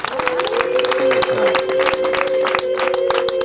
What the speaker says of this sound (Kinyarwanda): Nibwo yishima murahuza ibiganza mwongere mumushimire n'impundu.